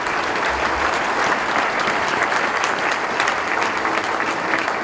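A church congregation claps loudly and continuously throughout, a dense, even roar of hands with no pauses.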